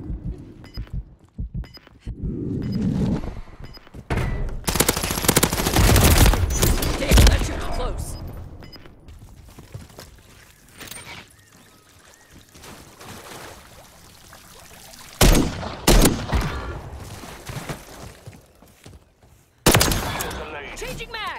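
Gunfire in the video game Modern Warfare 3 comes in bursts of automatic shots, loud and close at times, with quieter gaps between volleys and voices talking over parts of it.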